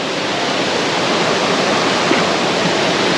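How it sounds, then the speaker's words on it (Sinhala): The Asupini Ella waterfall pours over huge rock faces in a loud, constant roar of falling water, steady and close with no breaks. "මේ සුවිසල් ගල් පර්වත මැත්තේ කඩා හැලෙන දියවර නිර්මාණය කරනවා මා ඔය"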